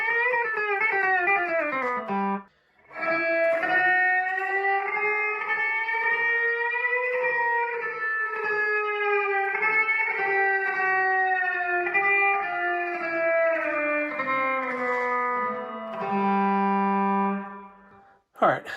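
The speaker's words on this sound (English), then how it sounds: "a descending double stop lick" A pedal steel guitar plays a slow lick of paired notes that slide and step downward, sustained and ringing, with a brief pause early on.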